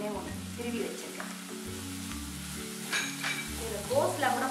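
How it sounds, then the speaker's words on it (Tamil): Chopped onions sizzle steadily in about a spoonful of hot oil in a pan while making wheat flour adai, with a few scraping stirs and light clinks of the spoon against metal, with no talking. "எண்ணெய் ஒரு 1 ஸ்பூன் விட்டுட்டு ஃபஸ்ட்டு வெங்காயத்தை"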